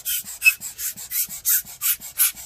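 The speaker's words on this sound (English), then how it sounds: "the slight friction allows me to kind of brush the fan blades a little bit, just so to get the dust out" A brush works the dust off laptop fan blades in about a dozen quick, even scrubbing strokes, close and dry with a bristly rasp, no voices.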